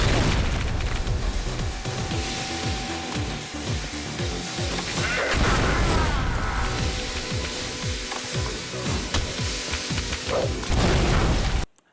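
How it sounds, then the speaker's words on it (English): Cluster Puck grenades going off in the retro first-person shooter Ion Fury, a dense run of booming blasts and small bursts over game music and effects, loud and continuous for about twelve seconds. "a hockey puck shaped grenade that explodes on impact, with a secondary fire to burst into several small explosions when tossed, or just one big boom"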